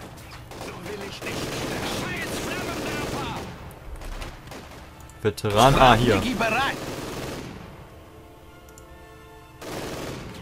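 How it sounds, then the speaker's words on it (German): Small arms gunfire in the WWII strategy game Company of Heroes 2, crackling bursts and scattered shots through the battle ambience, sharpest around the middle, with a brief German voice line from the game over it. "Beschuss durch Handfeuerwaffe"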